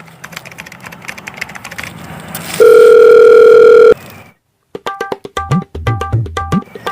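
A telephone dial tone holds steady for about a second and a half between bursts of rapid keypad presses and clicks as a phone call is placed; the handset tones are loud and close.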